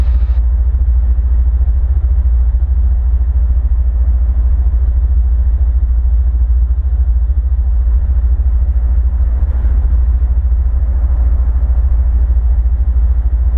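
Steady, loud low drone of a Bristell light aircraft's engine on short final approach to runway 31 at Grants, New Mexico, with flaps down, holding an even rumble throughout with no talk.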